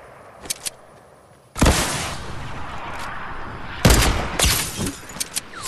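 Loud sniper rifle shots in Fortnite Riptide, two heavy booming blasts with long noisy tails about two seconds apart, preceded by faint clicks and with no talk.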